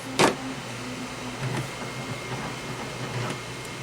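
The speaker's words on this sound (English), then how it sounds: "you hear how the fan's kicked on?" The fan of a Flashforge Adventure 5M Pro 3D printer runs with a steady whirring hum, broken by a sharp click near the start and a few faint mechanical ticks over the continuous drone.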